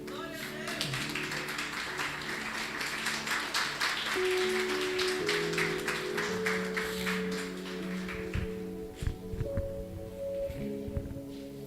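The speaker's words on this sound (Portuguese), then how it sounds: "Coloque-se em pé e dê um forte aplauso ao Senhor Jesus" A standing church congregation at a deep-waters conference claps together in a dense, steady patter, with sustained music and a voice carrying over it throughout.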